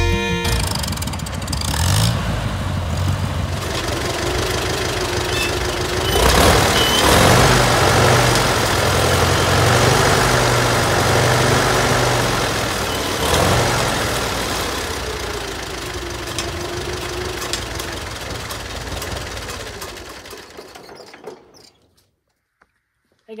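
A Farmall Super M-TA tractor engine runs loudly and steadily, its low rumble swelling and easing a few times before cutting out at the end, with no talk.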